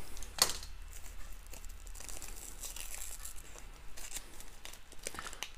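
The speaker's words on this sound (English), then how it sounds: "Let's just go ahead and cut this thing open and see." Cutting open a 1987 U.S. military MRE pouch, Menu No. 2 Ham and Chicken Loaf: close, dry crinkling and tearing of the packaging, with one sharper snip near the start, and no voices.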